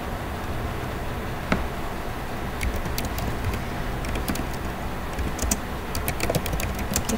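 Text is typed on a computer keyboard, with scattered light key clicks, some in quick clusters, heard over a steady hiss of background noise.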